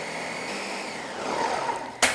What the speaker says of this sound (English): we're gonna blend it all up together until it's really smooth